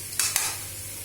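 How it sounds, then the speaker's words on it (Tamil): Potatoes frying in a pan are stirred twice, two quick scraping strokes over a close, continuous hiss of hot oil, with no voices. "அவங்க உருளைக்கிழங்கு வறுக்கிறதுல ரொம்ப ஸ்பெஷலிஸ்ட்."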